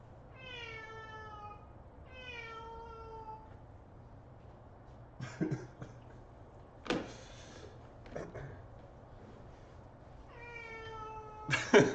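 A cat meows outdoors, several drawn-out wavering calls in two pairs early and another near the end, with scattered knocks and rustles between them over a quiet background.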